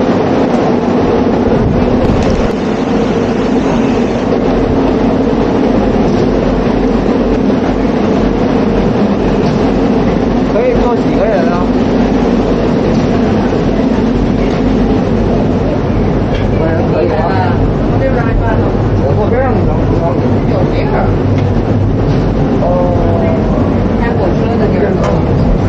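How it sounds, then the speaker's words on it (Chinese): Penang Hill's cable-hauled funicular car rumbles along its track with a steady low mechanical drone and occasional squeals, loud and continuous, with people talking over it. "升旗山缆车啊，是用缆线上下拉扯，而不是利用引擎的"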